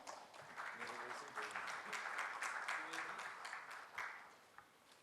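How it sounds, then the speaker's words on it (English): Audience at an insurance summit applauds panelists, with steady clapping that builds and then fades, under a faint voice. "A big round of applause for them."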